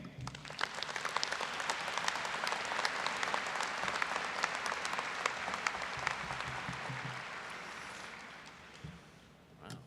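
Audience applause at a college commencement ceremony for professional studies, a dense, sustained crowd of clapping hands that holds steady for several seconds before tapering off near the end.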